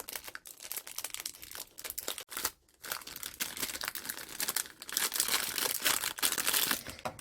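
A parcel from Temu being unwrapped: plastic packaging crinkles and crumples close by in a steady, busy stream of rustling, with a short pause partway through.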